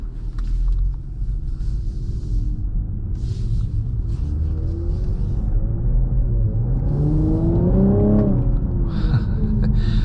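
A 2024 Cadillac CT5-V Series pulling away, heard from inside as a low steady engine rumble that swells as it accelerates, with road noise and no talking.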